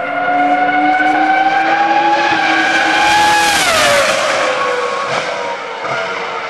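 A Formula 1 race car roars loudly and close, its engine note holding high then dropping and fading as the car pulls away, with a rising rasp of tyre or gearbox noise near the end.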